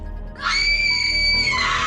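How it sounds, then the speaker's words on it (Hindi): In a horror story set in a haunted mansion, a sudden, loud, high-pitched scream cuts in over a low hum, holds for about a second and then fades, with no speech around it. "अचानक से मेरे कानों में एक चीख की आवाज़ पड़ी।"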